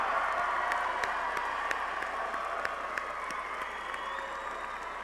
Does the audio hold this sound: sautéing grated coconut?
no